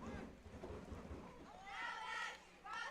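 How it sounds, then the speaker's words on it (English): Someone bangs on metal bleachers at a junior high football game, making a low rumbling, thunder-like roll that rises and fades amid crowd noise, with faint voices nearby. "I think they're just somebody banging on the bleachers down there"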